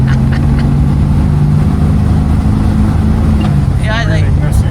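Bullet Nose Studebaker car engine running at speed, a loud steady drone with low rumble filling the cabin, heard from inside the moving car with brief voices over it.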